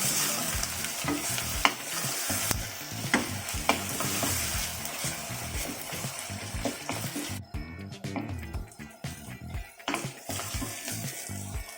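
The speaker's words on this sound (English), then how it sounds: "We'll saute the onions for 2 to 3 minutes." Onions sautéing in a pan for chicken curry, a continuous sizzle broken by repeated stirring scrapes and taps, briefly quieter and sparser near the end, no one speaking.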